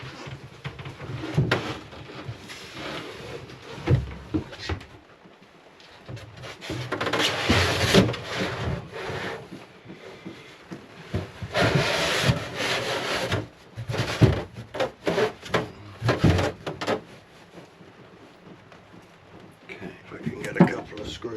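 A wooden board is slid and rubbed into place inside a homemade freezer built for a DIY sailboat, with scraping, knocking wood contact in uneven bursts separated by short pauses, close by.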